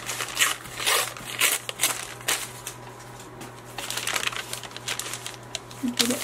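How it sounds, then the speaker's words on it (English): Bursts of ripping and crinkling paper torn by hand, close up and irregular, with a faint steady hum underneath. "You don't even need scissors, just rip it out."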